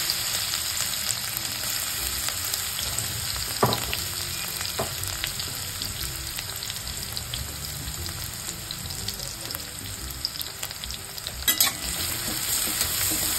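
Crushed garlic and chili sizzle in plenty of hot oil with cumin, a loud, steady, close frying hiss that carries on throughout, broken by a few faint clinks of a utensil.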